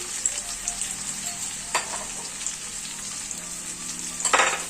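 Soybean curry with salt, cumin-fenugreek powder and Kashmiri chili powder frying in a pan, a constant bright sizzle with occasional stirring scrapes and a louder clatter near the end.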